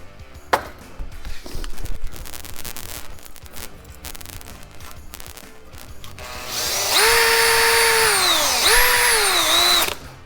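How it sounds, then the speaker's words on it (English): A power tool spins a small spring-loaded 3-stone line hone with penetrating lube, preceded by clattering and handling noises, then a loud whining drill run that pitches down and back up before stopping abruptly. "I take my little hone here. It's got a spring in it. It's just a small 3-stone line hone."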